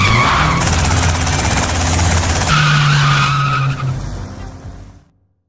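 In Grand Theft Auto: Vice City a car peels away with tires screeching and engine revving loud and close, the skid wailing before the sound cuts off abruptly.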